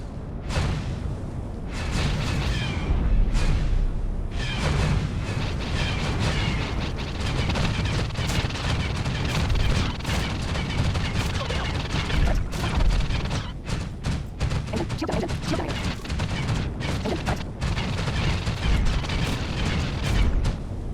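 Blaster fire and explosions in X4 Star Wars as turrets are destroyed: loud, dense booms and sharp blasts in rapid succession, continuous and chaotic throughout.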